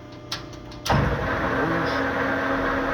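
LeBlond Makino 15-inch by 50-inch metal lathe being shut off and braked, a sudden loud mechanical clunk followed by a steady, dense machine rumble and whir that holds on close by.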